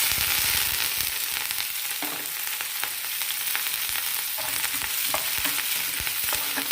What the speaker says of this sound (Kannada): ಇದೆಲ್ಲ ಚೆನ್ನಾಗಿ ಫ್ರೈ ಮಾಡ್ಕೊಳ್ಳೋಣ